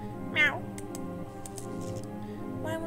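A cat meows in the Fran Bow video game, one clear rising-then-falling meow near the start and a second, softer one at the end, over quiet game music.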